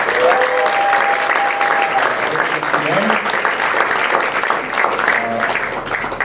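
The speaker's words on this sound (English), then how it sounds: "Please give them a big round of applause" A large crowd applauds for a senator, a representative and a mayor at the East-West Center in Hawaii, loud sustained clapping filling the whole stretch, with a few cheers or whistles rising over it.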